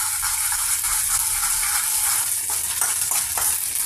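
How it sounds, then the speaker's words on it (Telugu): Onion, green chili and ginger-garlic paste frying in a pan, a continuous close sizzle with stirring and light scraping against the metal, no voices. "పచ్చిమిర్చి, గార్లిక్ అండ్ జింజర్ పేస్ట్ ఈ విధంగా ఫ్రై అవుతున్నాయండి"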